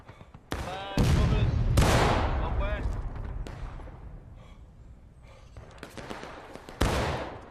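Musket gunfire in War of Rights, with several loud sharp shots spaced irregularly, some close and booming and others fainter, each leaving a fading echo, mixed with shouting voices.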